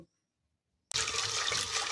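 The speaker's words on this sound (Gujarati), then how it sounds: "સાથે જ આપણે અહીંયા એક ગ્લાસ જેટલું પાણી ઉમેરી દઈશું" After a moment of near silence, a glass of water suddenly gushes into a pot of green peas seasoned with salt and turmeric, a loud, steady, close splashing pour.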